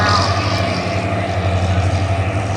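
A diesel truck engine at a western-style truck pull throbs with a deep, loud, rough idle and rev, rumbling steadily close by throughout the short stretch.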